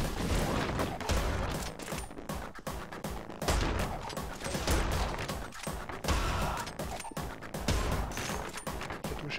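Loud, rapid bursts of shotgun fire in the first-person action game Anger Foot, blasts following one another with crashing impacts throughout, no talking.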